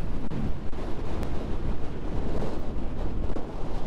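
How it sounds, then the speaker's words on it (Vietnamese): Strong wind off the sea along the Ninh Thuan coastal road near Vinh Hy Bay pummels the microphone, a loud, gusty, uneven rumble throughout with no voices. "Gió quá."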